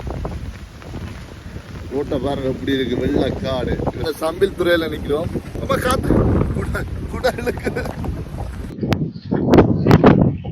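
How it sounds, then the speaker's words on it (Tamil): Strong wind gusting along a Sri Lankan seashore, rumbling steadily beneath continuous nearby talk, with louder buffeting gusts hitting the microphone toward the end. "காத்து வேற லெவல்ல அடிக்குது"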